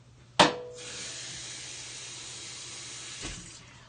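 Tap water runs steadily from a kitchen faucet into a sink for about three seconds, starting with a sharp gush and then a continuous hiss. There is no talk.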